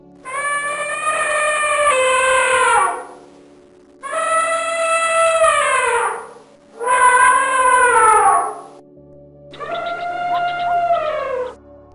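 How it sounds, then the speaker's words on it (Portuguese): Elephant trumpeting, four long loud brassy blasts with strong harmonics, each two to three seconds long and separated by short pauses, heard alone with no talking. "Elefante. Elephant."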